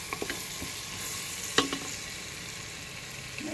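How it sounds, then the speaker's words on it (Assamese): Masala spices fry in hot oil for mutton dal gosht, giving a steady close sizzle with a couple of sharp scraping clinks as a spoon stirs the pan. "মছলাখিনি ভজা হৈ আছে"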